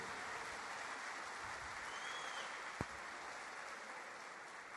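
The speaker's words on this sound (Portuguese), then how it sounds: "Pode dar uma salva de palmas para Jesus" Church congregation applauding during a Portuguese-language worship service, a steady wash of clapping that holds at an even level from start to finish with no voices rising above it.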